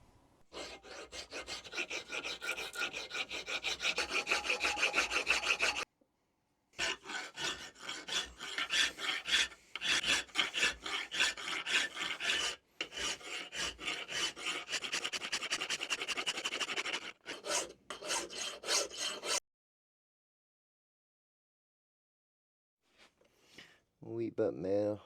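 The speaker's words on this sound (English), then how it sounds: "I'm just going to start filing now." An old steel file is hand-filed into a fishtail chisel, with repeated rasping strokes in steady bursts separated by short pauses, heard up close with faint breathing and a quiet stretch near the end.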